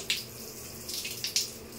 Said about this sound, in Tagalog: Shower head with vitamin C.